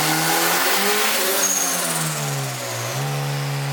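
A turbocharged Honda K24 engine on a dyno revs hard, its pitch climbing and sweeping loudly, dipping briefly, then surging again, close up and with no voices.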